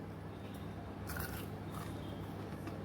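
Someone bites into a crispy fried vadi made from drumstick leaves, giving two close, sharp crunches against quiet background hiss.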